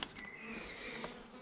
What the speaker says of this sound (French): c'est un paquet d'abeilles récupérées dans une ruche très forte